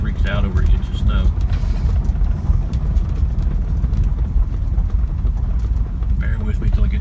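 A 1964 Ford Galaxie 500XL rolls over a rough farm road with a dense, continuous low engine and road rumble and rattling, loud and close, with a voice talking over it.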